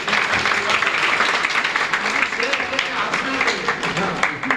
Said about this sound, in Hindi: इस पर तालियां होनी चाहिए